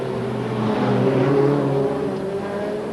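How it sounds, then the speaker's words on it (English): A Formula 3 race car of the 2003 F3 EuroSeries at the Pau street circuit, its engine droning steadily and swelling slightly as it crosses the finish line, heard from a distance. "Second place man comes across the line now, which is Olivier Pla."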